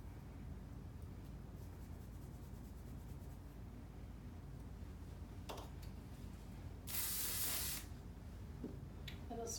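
One short burst of hairspray hisses close by, lasting under a second against a quiet background.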